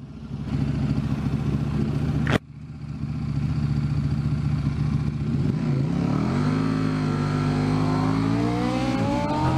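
Loud motorbikes in a video game race: a steady engine roar broken by a sharp crack, then revving that climbs and rises in pitch, close and loud, with no talk.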